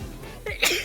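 A single sharp sneeze, close and abrupt, preceded by a brief breathy intake.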